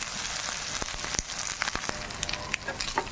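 Ginger garlic paste frying in a pan while cooking taro root fry, a steady close sizzle with scattered sharp crackles and pops.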